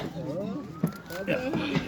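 Fire engine siren arriving at a traffic accident on a road near Bayburt, Turkey: a faint wailing tone rising steadily in the distance beneath excited voices talking close by.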